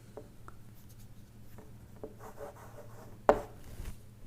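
Chalk or marker scratches on a board during a strength of materials lecture, with faint intermittent strokes over low room hum and one sharp knock near the end, no speech.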